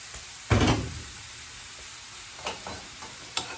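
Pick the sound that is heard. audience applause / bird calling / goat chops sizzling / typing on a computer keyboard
goat chops sizzling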